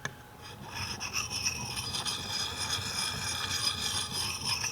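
Rasping strokes of a Lansky Puck sharpening stone worked steadily across a nicked axe blade, a continuous close scraping with overlapping passes and no talk.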